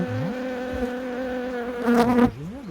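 Honeybees buzz loudly and steadily around a hive frame being inspected, a dense droning hum with several overlapping wingbeat tones that swell briefly as bees pass close.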